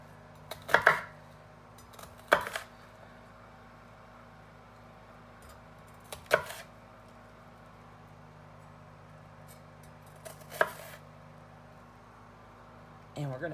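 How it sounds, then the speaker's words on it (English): Knife slicing through a peach and habanero on a cutting board while making salsa, four crisp separate cuts spaced a few seconds apart over a quiet kitchen background. "We're just going to make some nice slices"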